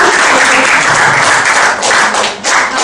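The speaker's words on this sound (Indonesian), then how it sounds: "Yuk, tepuk tangan." Loud, close applause from an audience welcoming a guest at a heart-health talk on resveratrol, dense continuous clapping that dips briefly near the end.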